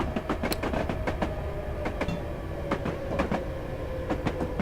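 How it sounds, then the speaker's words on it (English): A London Underground District Line train arrives in Train Simulator 2017, a steady rumble of wheels on track with repeated clicks and rattles of rail joints over the whole stretch, no voices. "Another train arriving over there."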